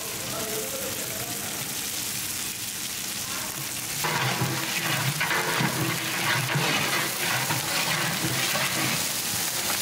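Ginger garlic paste and green chillies frying in a big pot for a 40 kg bagara rice and mutton curry batch, a steady broad sizzle that grows louder and denser partway through, with scraping stir sounds mixed in and no voices.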